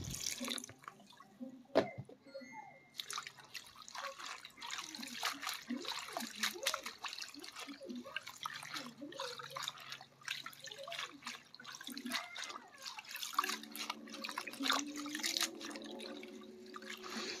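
Chopped water spinach (kangkung) being rinsed by hand in water, with quiet splashes, drips and sloshing over a long stretch and a brief tonal sound near the end.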